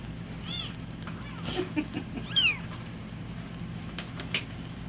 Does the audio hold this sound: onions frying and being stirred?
no